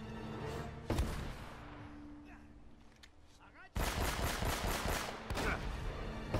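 Heavy bursts of gunfire from many enemies in Uncharted: Drake's Fortune, with rapid overlapping shots, a quieter lull, then a loud sustained barrage returning near the end.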